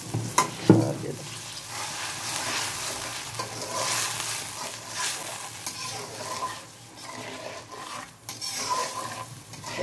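Spice paste frying and being stirred in a pot for a family feast, a steady loud sizzle with scraping spoon strokes and occasional clinks of the pot, with no talk.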